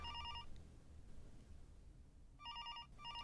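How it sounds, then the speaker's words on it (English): A telephone rings inside a Twilight Zone VR video game with a bright electronic warbling trill, two bursts separated by a quiet gap, fairly faint over a low background hum with no talking. "Phone's ringing."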